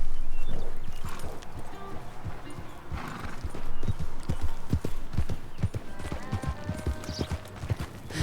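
Hooves clip-clop in an irregular walking rhythm close by, with a horse whinnying partway through and voices talking intermittently over the steps.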